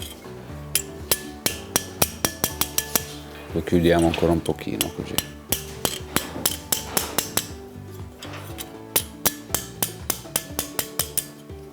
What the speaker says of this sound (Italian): abbiamo bisogno del martello